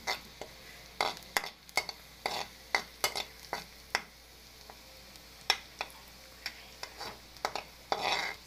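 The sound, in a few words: sautéing garlic and onion in cooking oil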